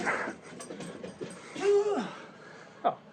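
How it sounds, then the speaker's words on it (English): In a warehouse, a dog pants in quick, breathy bursts close by and breaks into a high, thin whimper, ending with one short sharp whine. "Honey, the dog, not the product."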